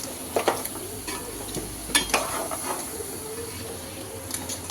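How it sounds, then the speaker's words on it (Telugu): Crab curry being stirred with masala in a pan, giving scattered scraping and clinking strokes over a soft, steady sizzle and hiss. "ఇలా శుభ్రంగా కలిపేసుకోవాలండి. మసాలా అనేది కలిపి పక్కన పెట్టుకోవాలి."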